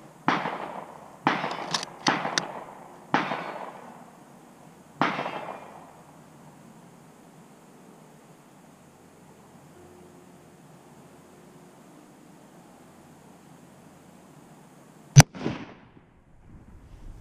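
Shots from an M38 Swedish Mauser rifle fired outdoors: several sharp, loud cracks close together at first with fading echoes, then a long quiet stretch before one more sharp report.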